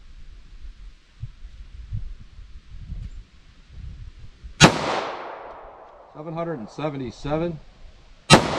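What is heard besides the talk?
pistol gunshots, .45 ACP Fiocchi ammo from 3.3-inch Shield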